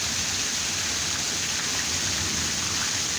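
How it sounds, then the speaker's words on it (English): Steady rain falls in Arkansas, a continuous even hiss of drops on surfaces that holds at the same level from start to finish with nothing else standing out. "it's stinking raining here in Arkansas"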